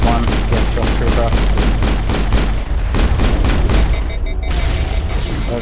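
Rapid gunfire crackles in the Mass Effect video game as bursts of close, loud shots repeat in a steady rhythm, then the firing stops and fainter booms remain, with a voice talking over it.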